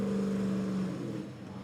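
Fire truck rolling in at a Labor Day firefighter drill in West Hempstead, a steady engine rumble with a held low tone that fades slightly as it moves, heard outdoors with no talk over it.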